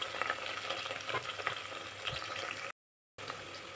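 Onions, green chilies and masala sizzle and fry in a pan for avarekalu pulao: a steady, close crackling sizzle with a short silent gap near the end.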